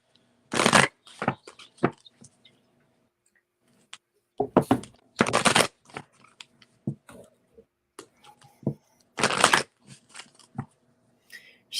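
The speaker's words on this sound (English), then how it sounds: "Yeah, I'm gonna go ahead and shuffle." Tarot cards are shuffled in three separate bursts of riffling and snapping, close up, with scattered light taps and quiet pauses between.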